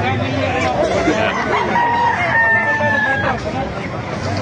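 A rooster crows at the Calumpit market, a single drawn-out call rising over the chatter and clucking of other fowl, with people talking nearby.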